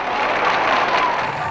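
A television game show studio audience applauds loudly and evenly in a dense wash of clapping with faint cheering, held for the whole moment.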